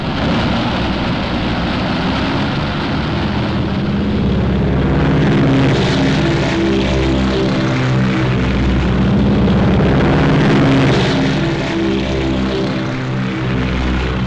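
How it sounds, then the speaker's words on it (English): Navy planes and Army bombers roar overhead in a wartime battle scene, a loud continuous drone of propeller aircraft engines that swells and pulses with no talking. "Navy planes roared from the decks of our carriers, Army bombers, Marines, thundered destruction over a 300-mile battle area."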